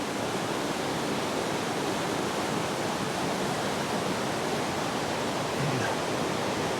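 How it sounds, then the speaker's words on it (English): Loud, steady rushing of fast-moving creek water, a dense continuous roar with no pauses or voices. "we're about to get our first views of the creek, and it is rocking and rolling pretty good up here"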